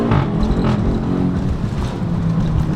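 A tuned Volkswagen Golf 7 GTI engine drives along with a steady low rumble and road noise, loud and continuous.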